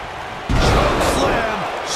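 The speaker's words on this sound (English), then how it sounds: "Tombstone pile driver. Nailed it." Kane's Tombstone piledriver in a WWE wrestling video game lands with one heavy, booming slam that hits suddenly after a brief quiet lead-in, then decays into a rumbling tail under crowd noise.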